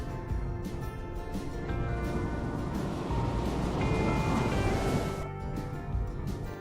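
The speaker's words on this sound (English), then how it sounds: "I put the sound of ocean waves with pirates." A generated sound effect of ocean waves with a pirate theme: a continuous rolling roar of surf and wind with surges and faint tonal layers in the background, no voices.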